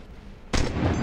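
A single sharp gunshot from the Fortnite: Battle Royale video game, a sudden loud crack halfway through that leaves a dense, booming tail, with no talking over it.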